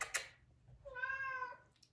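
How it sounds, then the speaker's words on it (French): A cat gives a single clear, drawn-out meow, close by and fairly soft, after a brief rustle, with no talking. "viens mon minou"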